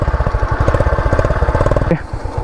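A Yamaha Crux motorcycle idles close by with a simple, rhythmic single-cylinder exhaust putter, then the note abruptly drops away near the end.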